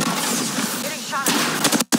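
Gunfire rattles in Apex Legends, rapid automatic bursts growing louder toward the end, over game voice chatter and effects.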